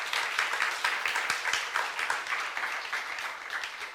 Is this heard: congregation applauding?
yes